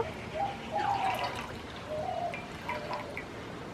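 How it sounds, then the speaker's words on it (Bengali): Water trickles and drips as vinegar-curdled chhena for rasgulla, made from powdered milk, is squeezed by hand, giving soft intermittent dribbles over a faint background hiss, with no talking. "ভালো করে এবার চেপে চেপে জলটা বার করে নেব"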